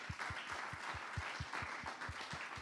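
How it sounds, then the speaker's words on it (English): Audience applause at a food and data conference, heard as a faint, sparse clapping with distinct claps in a steady rhythm and no talk. "Round of applause for Wim."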